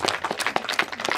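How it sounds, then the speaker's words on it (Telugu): An audience claps and applauds at a yagya gathering, a quick patter of many hands that is moderately loud and brief. "గట్టిగా చప్పట్లు కొట్టాలండి"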